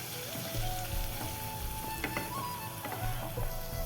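Tomatoes and onions fry in a pan for a Bengali katla fish curry, a steady close sizzle with scattered crackles and a few scraping stirs, no talking.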